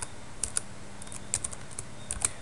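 Java code being typed on a computer keyboard, with quick, close, irregular key clicks in short bursts over a steady background hiss.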